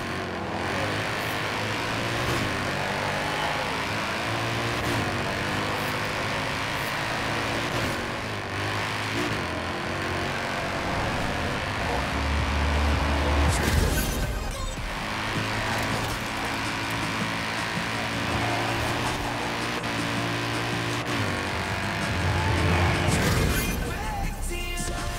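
A 2011 Mercedes SLS AMG drives in Forza Horizon 4, its engine droning loudly and continuously, with gear-change dips and a heavy impact midway.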